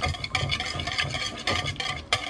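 Yeast being mixed into dough for sweet bread, with rhythmic stirring and squelching strokes in a bowl, fairly close and steady, each stroke making a soft wet swish.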